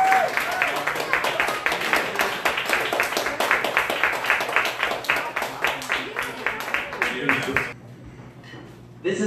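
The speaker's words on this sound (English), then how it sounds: "Give a round of applause for our dear friend RJ" Round of applause at a poetry book release, audience clapping in a fairly rhythmic, loud stream with voices mixed in, then cutting off abruptly near the end into a quiet room.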